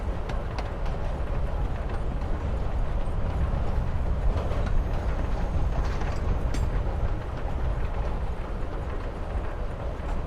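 A train ride from the video game Life is Strange: Before the Storm: a constant low rumble with faint rhythmic clatter and mechanical rattling throughout.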